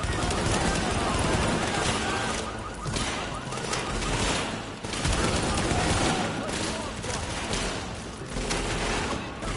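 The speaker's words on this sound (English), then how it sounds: "Gotta love blind firing." Gunfire in the video game The Division, sustained bursts of automatic shots crackling loudly and nearly without pause, with brief lulls between volleys.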